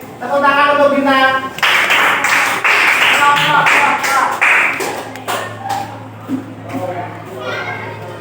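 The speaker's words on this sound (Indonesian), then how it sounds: "Tepuk tangan untuk bintang" A class of young primary school children claps for a classmate, a burst of brisk rhythmic hand claps under a teacher's voice, then talk continues over a low hum.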